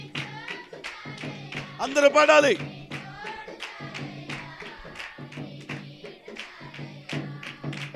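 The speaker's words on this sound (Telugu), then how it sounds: "చప్పట్లు" A congregation claps steadily along with a Christian worship song in a Telugu church service, the sharp, rhythmic hand claps mixed under loud singing and a speaking voice.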